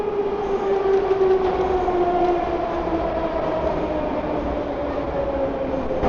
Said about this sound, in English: There's a train coming on the other side.